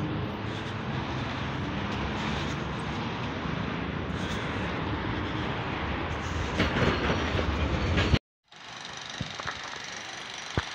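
A red-grey commuter train on a Moscow suburban rail line arrives at a station with a loud, steady rolling rumble and clattering wheels close by. The sound drops away abruptly near the end, leaving quieter station ambience.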